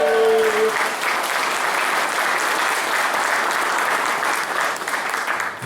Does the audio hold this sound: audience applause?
yes